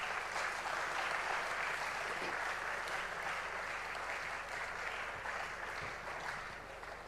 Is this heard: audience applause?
yes